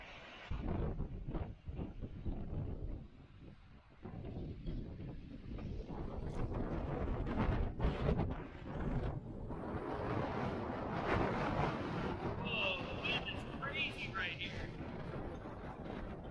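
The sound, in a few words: wind on a cliff edge in the Utah backcountry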